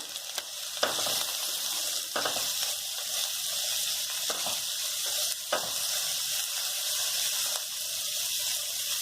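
Green chillies and pepper powder are stirred and sizzle in a pan for Manchurian, with a steady frying hiss punctuated by regular scraping stirs close by and no talk.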